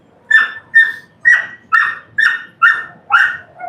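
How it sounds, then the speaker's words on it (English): A dog barks seven times in an even rhythm, sharp and close, each bark clear against a quiet room. "Are you guys listening to Finn barking?"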